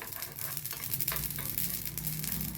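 Fenugreek seeds fry in oil for a mango pickle, giving a soft, even sizzle and a few gentle crackles over a low hum, with brief scraping strokes as they are stirred.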